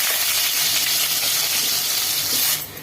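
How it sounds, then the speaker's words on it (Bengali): Potatoes frying in hot oil with cumin give off a loud, continuous sizzling hiss that holds steady before dropping away abruptly near the end. "তো আমি আলুটা ভালো করে ভেজে নেব এখন।"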